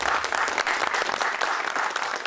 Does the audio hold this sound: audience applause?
yes